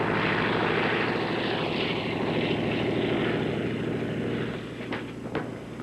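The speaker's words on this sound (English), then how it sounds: "Who's in that plane?" Propeller airplane droning overhead, a steady loud engine roar with rhythmic prop beat that slowly fades toward the end, a couple of faint knocks near the close.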